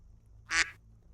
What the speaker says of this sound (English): I also heard a quack.